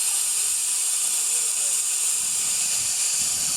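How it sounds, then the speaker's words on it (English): Compressed air from an air compressor blasts in a steady, loud, close hiss that holds unbroken throughout, without talk. "We're using compressed air from an air compressor."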